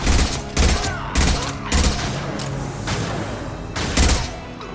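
High-impact gunshots in the Mass Effect 2 video game: five loud, heavy booming shots, four in a fairly even rhythm and one after a pause, each with a short decaying tail over a continuous bed of game ambience.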